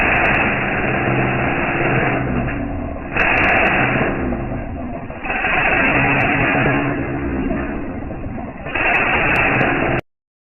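A valve seat grinding stone spins steadily against a Toyota cylinder head, cutting the 45-degree seat; the loud continuous grinding drone holds throughout, swelling and easing in a few bursts before stopping abruptly at the end.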